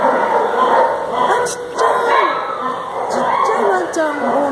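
A small Pekingese dog at an American animal shelter gives a few yappy barks and whimpers amid other dogs and a bustling crowd, with people talking throughout.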